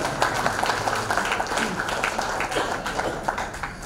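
Audience clapping at a talk event after a guest is introduced, a moderately loud, dense patter of hands with individual claps standing out, continuing steadily for several seconds.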